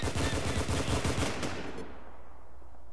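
In War Inc Battlezone, a loud stream of rapid automatic rifle fire rattles for about a second and a half, then cuts off, leaving only a faint background hum.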